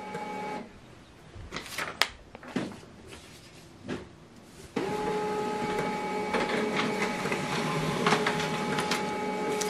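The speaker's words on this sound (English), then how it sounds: "it's printing pairing code." An HP LaserJet Pro 3001 laser printer prints a pairing code, starting with clicks and mechanical clunks, then settling into a steady whirring feed with faint rhythmic ticks, close and without voices.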